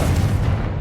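A Confringo spell explosion inside a small mine in the video game Hogwarts Legacy: a brief, loud, booming burst with heavy low rumble and a hissing crackle that fades slightly at the end.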